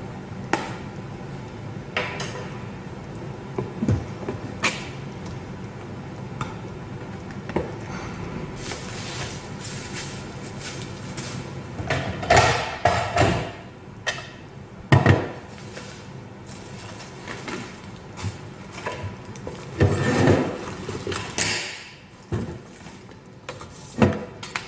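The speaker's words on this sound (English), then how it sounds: "Okay, open the box." Cardboard packaging of an ALISKID vegetable spiralizer being opened and handled up close, with scattered soft rustles, taps and a few sharper knocks and thumps, louder toward the middle and end, with no talking.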